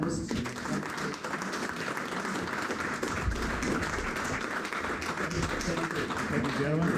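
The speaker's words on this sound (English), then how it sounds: "Ladies and gentlemen, I'd like you to please give a round of applause for our two panellists." An audience at a panel discussion applauds its two panellists, a fairly quiet, diffuse round of clapping heard from some distance, with murmured voices mixed underneath.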